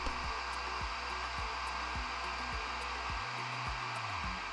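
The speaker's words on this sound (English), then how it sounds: "I used a hair dryer to stiffen the slip a little bit." A hair dryer blows with a steady, continuous whir and rushing air, drying clay slip on pottery, with a few faint clicks and taps underneath.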